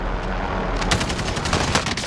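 Dense automatic gunfire from the video game Call of Duty: Modern Warfare, with rapid overlapping bursts that grow louder and sharper after the first moment and continue steadily, no voices.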